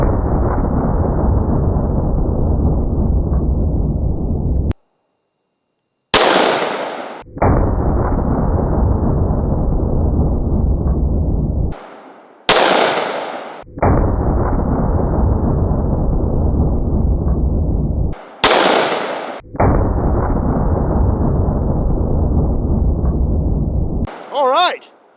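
Four-barrel pocket pistol fired outdoors, several loud sharp gunshot bursts spaced through a steady windy roar, each shot cutting the background briefly before it resumes.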